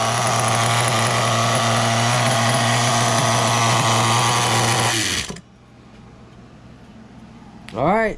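A nitro engine on a Losi Muggy RC truck runs loud and close as a steady, buzzing, high-pitched drone, then cuts off abruptly; a voice speaks briefly afterward.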